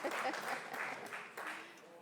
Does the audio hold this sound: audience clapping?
yes